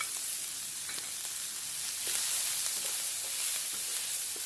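Celery sizzling and frying in a pan for low-carb pork egg rolls, a steady close crackle with occasional stirring, no voices.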